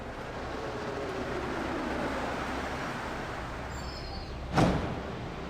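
A subway train ride in Deus Ex: Human Revolution carries a steady low rumble and rolling hiss, followed by a short loud whoosh or clunk near the end.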